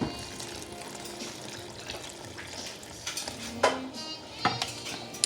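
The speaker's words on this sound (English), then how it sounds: "So let's add more water." Water goes into pork chop gravy in a pan and gets stirred, with a quiet sizzle and liquid sloshing under scraping utensil strokes and a few sharper clinks against the pan.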